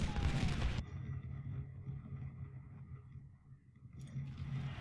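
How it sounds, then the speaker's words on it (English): Artillery booms in a Civil War strategy game battle at Antietam, a loud blast at the start and another near the end, with low rumbling between them. "Told you there's artillery in those woods."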